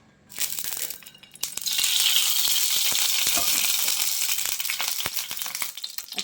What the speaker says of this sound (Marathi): पॅन तापलेलं आहे आता तेल टाकते थोडंसं